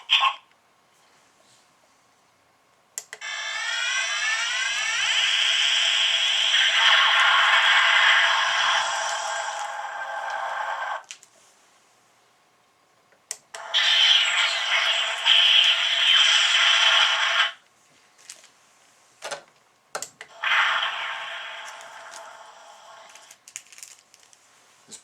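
Star Trek III Klingon Bird of Prey toy playing electronic sound effects, three bursts of bright whooshing, buzzing sci-fi noise separated by short pauses and small clicks.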